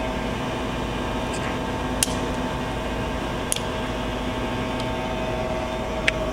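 Okamoto precision column-type surface grinder running steadily nearby, a continuous mechanical hum and whir with faint sharp ticks every second or so.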